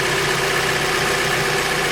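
Mazda MX-5 engine idling in an open engine bay, a steady, smooth hum with a faint tonal whine, close and constant with no talk.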